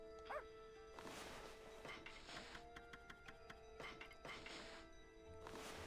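Amaterasu, a Shiba-dog form in the video game Okami, gives short barks, one near the start and a few more spread through, over faint game music and thuds at low level.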